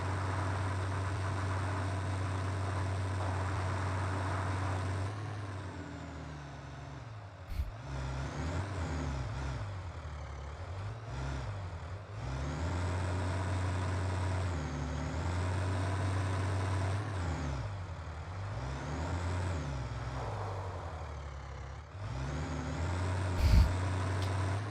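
A small truck in the video game Satisfactory drives along, its steady engine drone rising and falling in pitch as it cruises, with a couple of brief clanks, faint and continuous.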